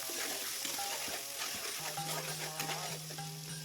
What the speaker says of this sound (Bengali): আদা পেস্ট অ্যাড করে দিলাম, দিয়ে ভালো করে একটু নেড়ে নিতে হবে।